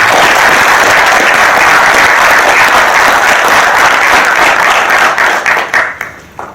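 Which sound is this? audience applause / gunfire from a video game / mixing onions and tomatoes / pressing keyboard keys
audience applause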